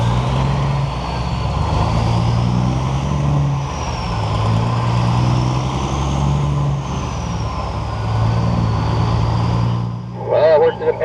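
A semi truck's engine drones loud and close, its pitch climbing and dropping repeatedly as the driver works up through the gears, with a brief hiss and clatter near the end.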